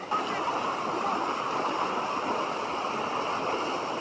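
Water from a waterfall pours down into a slider play area, making a steady, dense rushing roar that holds even and fairly loud throughout.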